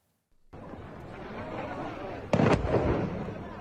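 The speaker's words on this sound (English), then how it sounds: "The moment Israeli missiles hit." An Israeli missile strike hits a camp for displaced Palestinians in Khan Yunis, Gaza, with a sharp, loud blast bursting over distant background rumble and crowd noise, followed by continuing roar.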